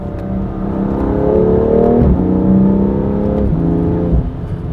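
A BMW F87 M2 Competition engine revs hard, its pitch rising and dropping sharply through a couple of quick paddle-shift downshifts, loud and close with no talking.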